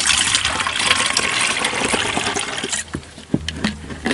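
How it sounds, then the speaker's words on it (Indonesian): Well, pond or river water poured into a garden sprayer, a loud continuous gushing fill that thins into sputtering trickles and splashes near the end. "Dan kita ambil air apa aja, air sumur, air kolam maupun air sungai. Kita wadahkan ke sprayer ini."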